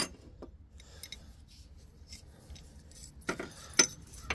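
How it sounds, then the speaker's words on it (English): Wrenches clank and scrape against a bent metal edge on a cheap 7.3 diesel Ford Excursion, with faint scattered ticks giving way to a few sharp, louder metallic knocks near the end. "gonna work on straightening out this edge right here with some wrenches"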